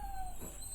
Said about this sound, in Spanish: mi perro anda loco